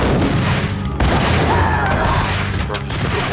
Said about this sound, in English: just took a whole grenade blast